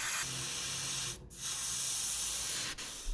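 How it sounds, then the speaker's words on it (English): An airbrush sprays flat black paint onto the engines of a 1/48 scale ICM Douglas B-26B-50 Invader model, a steady close hiss broken by two brief pauses. "loaded the airbrush with flat black paint"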